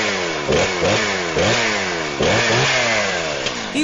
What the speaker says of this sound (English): Do you want a great sounding chainsaw like that?